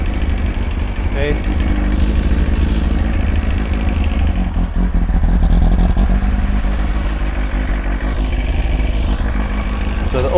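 Kawasaki ZX-9R motorcycle engine running after an oil and filter change, a loud, steady idle with a continuous low rumble and slight mechanical clatter, close up throughout.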